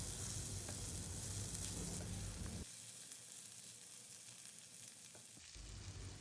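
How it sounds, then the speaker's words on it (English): Onion chunks sauté in a hot pan for a garlic prawn and broccoli stir fry, giving a steady loud sizzle and crackle that eases briefly as the pan is stirred, then rises again, with no talking. "Next goes some onion chunks. We'll saute them for a few seconds."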